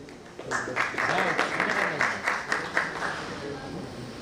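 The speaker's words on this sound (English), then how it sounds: "A huge round of applause." An audience claps at a medical event, a burst of steady applause that rises quickly and holds, with a voice speaking over it.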